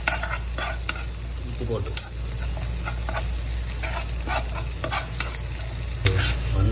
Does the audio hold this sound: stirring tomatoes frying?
yes